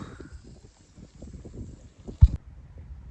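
Wind gusts buffet the microphone at a windy campsite, a low, uneven rumble that swells and eases, with one sharp bump near the end and no voices.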